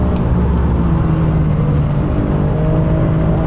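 Alfa Romeo Giulia Quadrifoglio engine running hard on the Donington Park track, a loud steady drone heard from inside the car, with no clear break for an upshift.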